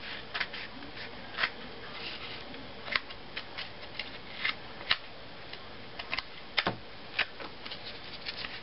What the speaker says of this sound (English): Okay, then you just cut off the excess again.